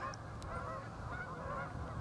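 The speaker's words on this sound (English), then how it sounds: "you might be able to hear the whole symphony of geese all around me" Many geese honk together in a constant, overlapping chorus that fills the air from all around, some calls nearer and others distant.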